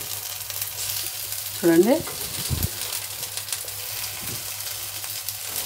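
Corn and potato cutlets sizzle steadily in a frying pan, a soft continuous crackle broken by a brief clatter midway; a voice speaks a single short word.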